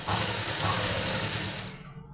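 A sewing machine runs steadily, stitching along the lining of a blouse in one continuous mechanical hum and rattle that fades at the end.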